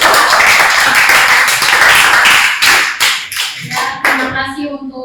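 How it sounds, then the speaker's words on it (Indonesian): A group of people applauds together in a classroom or meeting room after a presentation, a dense burst of clapping that thins into a few scattered claps and fades out near the end. "beri aplaus untuk kelompok"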